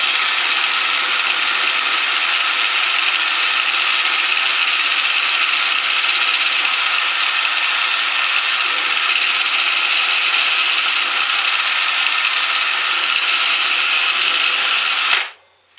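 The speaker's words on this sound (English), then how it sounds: "So I'm putting a small pilot hole through first." A power drill bores a small pilot hole through wooden spacers while fixtures are fitted on a ceiling-fan generator wind turbine build. One steady, loud, continuous whir runs unbroken for about fifteen seconds and then cuts off abruptly.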